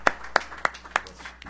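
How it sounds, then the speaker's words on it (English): Sparse, tepid applause from a press conference audience at a boxing fight announcement: a handful of separate, evenly spaced claps, fairly close and thin, with no cheering. "Forget deli next time if that's the tepid applause we're going to get"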